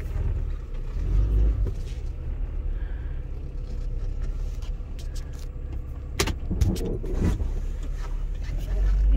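A car engine idles cold with a low, steady rumble close by, with brief clicks and rattles over it from a worn motor mount and a voice speaking now and then.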